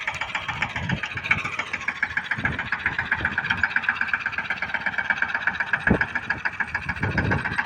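A diesel farm vehicle engine running at a steady idle, a dense continuous mid-pitched rumble with regular firing pulses, close by and unchanging throughout, no voices.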